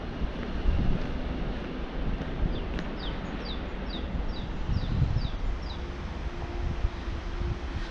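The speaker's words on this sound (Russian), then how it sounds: "Холодный ветер. Местами он стихает." Cold March wind blows steadily through Magadan, a dense outdoor rush with gusts rising and easing, while a few faint bird chirps repeat in the background.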